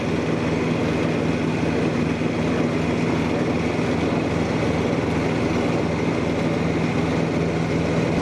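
A Cub Cadet riding lawnmower engine runs steadily close by, with a constant low hum and a faint rhythmic pulsing throughout.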